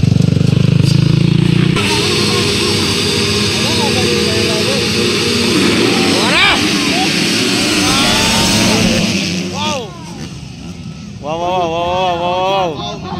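85cc motorcycles racing in a qualifying session at a Medellin motocross event, several small two-stroke engines screaming and revving as bikes pass close, with crowd noise and people talking over the loud racing.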